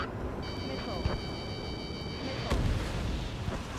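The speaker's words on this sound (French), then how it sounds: "C'est quoi cette explosion?" Explosion in the jet combat game Ace Combat 7 Skies Unknown, a sharp blast burst over a continuous low engine roar, with a second thud later, fairly quiet overall.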